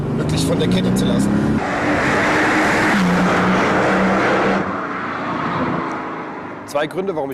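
A Mercedes SL 65 AMG Black Series with 670 horsepower roars under load on the Laguna Seca track, its engine note rising and shifting loudly, then easing as someone talks over it.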